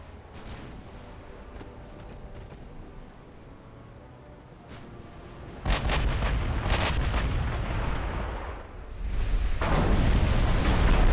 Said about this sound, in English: We are shooting at her from so many directions.